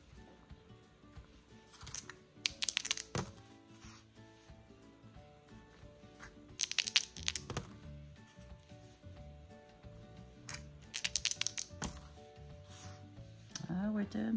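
Dice rolled in a savings challenge game, giving several separate bursts of rattling and clattering across a hard surface, fairly quiet and close by, with low background noise between the throws.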